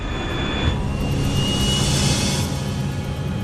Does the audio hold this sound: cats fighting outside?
no